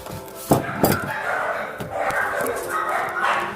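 Dogs bark in a home during a workout session, with a couple of sharp barks early on and then ongoing noisy yapping against a steady background.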